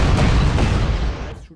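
Artillery and gunfire in the Panzer Corps strategy video game, a loud dense burst of booming shots that rumbles briefly before cutting off.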